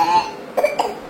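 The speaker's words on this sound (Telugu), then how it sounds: "దగ్గు వచ్చిందా నీకు?" A person coughs twice in quick succession, close and fairly loud, after a brief stretch of faint voice-like sound.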